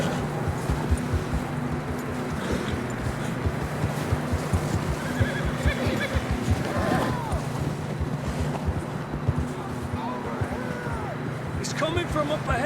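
Horses whinny and hooves clop on a trail during a blizzard, the calls rising above steady wind noise and a low engine-like drone, with voices talking throughout.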